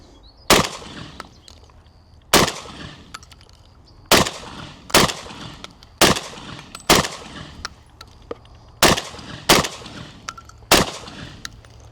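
Nine sharp, loud shotgun blasts from a MAC 1014 fire at an outdoor range, spaced roughly evenly a second or two apart, each with a brief echoing tail and no talking between them.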